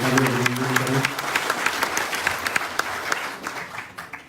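A voice trails off as a crowd at a BJP workers' felicitation ceremony in Kolkata bursts into applause for Arvind Menon, a lively mass of clapping that gradually thins and softens toward the end.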